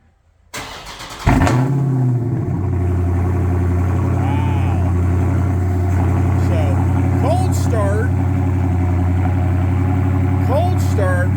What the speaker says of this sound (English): Cold start, pretty badass.